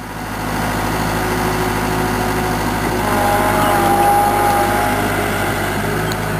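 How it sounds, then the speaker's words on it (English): A red Boss tree spade truck digs out a tree's root ball for wire basket and burlap wrapping, heard as a steady, loud engine drone running throughout with no speech. "This digging spade is what you call a red boss."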